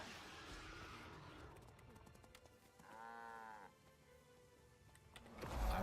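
Cows in the Guild Wars 2 video game during the Wintersday festival, heard as a single drawn-out bleating moo in the middle, over steady game ambience and music, moderately faint.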